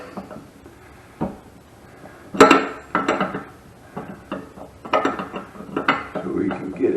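Metal clinks and taps from a 5/8 open-end wrench slid over a toilet supply pipe during a toilet replacement in a house, several short knocks and scrapes close by, with no talking.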